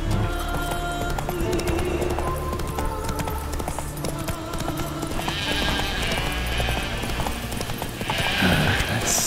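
A horse gallops in The Witcher 3, its hooves clip-clopping in a fast, steady rhythm close by, with a few snorts and faint background noise in between.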